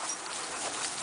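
A small dog named as a Texas dog runs in a pasture among bigger dogs, panting and whimpering in a steady, breathy stream up close, with no talk over it.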